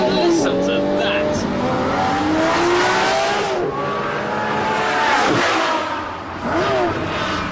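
A Lamborghini Murcielago LP640 pulls hard under acceleration, its engine note climbing loud and close through rising sweeps, dipping briefly between gears before surging again, with continuous road and wind noise beneath.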